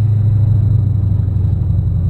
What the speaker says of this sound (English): Wow, this car is really loud.